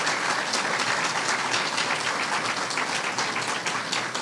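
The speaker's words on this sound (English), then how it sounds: "Let's give the staff a major round of applause." Sustained audience applause for hospital staff at a hospital renaming ceremony in honor of Ruth Bader Ginsburg, a thick, even wash of clapping from a large crowd lasting several seconds without speech.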